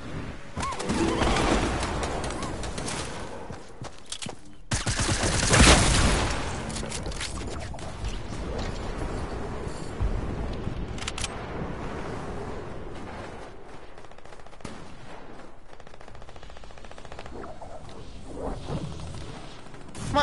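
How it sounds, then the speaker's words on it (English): A teammate shoots in a video game, with scattered bursts of gunfire, sharp crashes and whooshes across a busy stretch of game noise, loud at first and thinning out later. "My old teammate is shooting at me."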